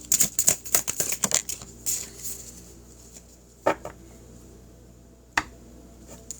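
A deck of cards being shuffled by hand, a rapid burst of crisp riffling flicks and snaps up close, then a few isolated card slaps in near quiet.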